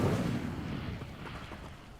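An Incendio fire spell cast in Hogwarts Legacy: a burst of rumbling fiery whoosh at the start that fades over about two seconds, alone without talk.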